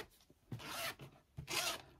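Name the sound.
zipper on sewn pocket being opened and closed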